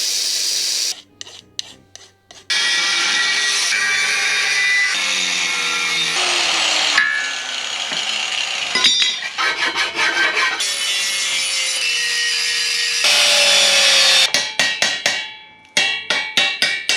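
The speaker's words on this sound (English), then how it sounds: "Switch this up to a cutting disc." An angle-grinder-style power tool fitted with a cutting disc cuts metal in a garage, a loud sustained high-pitched whine broken by brief stops and restarts with stuttering bursts near the end.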